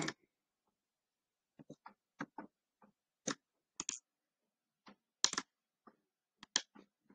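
Computer keys are tapped at an irregular pace, with sparse single clicks and small bursts of keystrokes against a silent background while a wallet number is entered.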